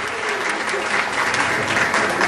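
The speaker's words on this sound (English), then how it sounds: "one more big round of applause for Aditi, please" Big round of applause from guests at a Gujarati wedding party for a dancer named Aditi, dense steady clapping filling the room for a couple of seconds with light crowd murmur beneath.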